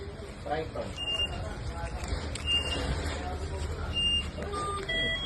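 Short electronic chirps and beeps from a vehicle alarm repeat several times over a steady low rumble of outdoor and engine noise, with talking nearby.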